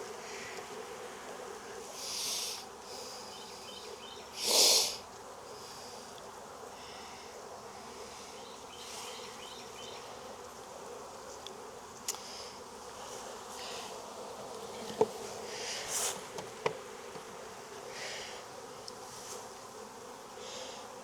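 A small honey bee swarm hums as a soft, continuous buzz for the whole stretch, with a few louder passes as single bees fly close by, and nobody speaks.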